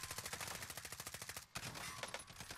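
Rapid automatic gunfire from the online shooter Warzone, a fast loud string of shots that breaks off briefly at a reload, then resumes in bursts, with no voices.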